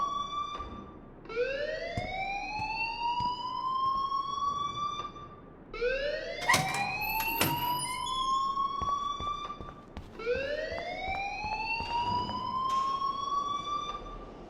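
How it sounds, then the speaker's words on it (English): A fire alarm wails in Life is Strange, a loud rising siren that sweeps up three times in long repeating cycles, close and dominant, with scattered clanks beneath. "please turn off that alarm since that's your job"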